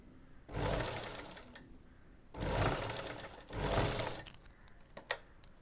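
A sewing machine stitches a one-inch folded hem on a pair of men's shorts, running in three loud steady bursts separated by pauses, with a couple of short clicks near the end.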